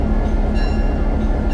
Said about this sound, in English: The train was headed by Black River and Western locomotive number 811, a GP9 diesel of the nickel plate heritage.